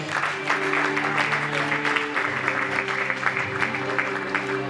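A church congregation claps and cheers steadily, with a crowd of hands in a dense, continuous patter under sustained organ or keyboard chords.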